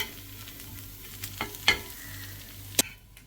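Taro root (seppankizhangu) fries in a pan with a low continuous sizzle, punctuated by a few sharp spatula scrapes and clinks near the end.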